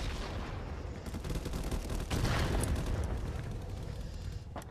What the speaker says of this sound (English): Someone grenaded his ass.